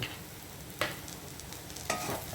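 Spice masala of coriander and chili powder roasts with onion in coconut oil in a pan, giving a soft continuous sizzle broken by two brief scraping stirs, without talk.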